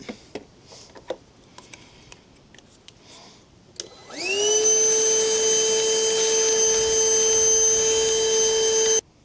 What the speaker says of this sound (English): I'm just going to hoover up any of this debris.